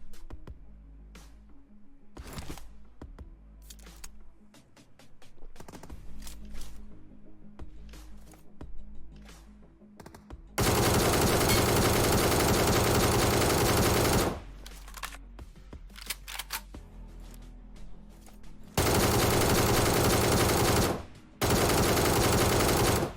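Automatic weapon fire in a mobile battle royale game, with scattered single shots giving way to long, loud sustained bursts, up close and without speech.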